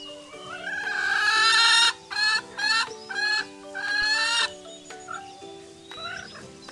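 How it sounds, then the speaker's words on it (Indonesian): A chicken clucks and squawks loudly and close by in a series of short bursts, with a faint musical backing underneath. "Ayam, chicken."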